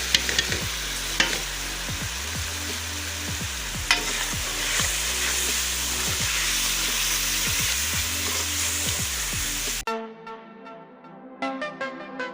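Spices frying and being stirred in a pan for a desi-style aloo matar curry, a steady loud sizzle with repeated scraping strokes of the spoon, ending abruptly near the close with a few clattering knocks.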